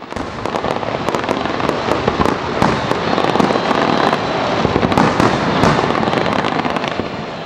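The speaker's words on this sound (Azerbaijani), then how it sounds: "Xüsusi işıq effektləri ilə yaradılan şou atəş və şanlıqla başa çatdı." Fireworks close out a special-effects light show at an opening event, a dense, continuous barrage of sharp bangs and crackles that stays loud and close throughout.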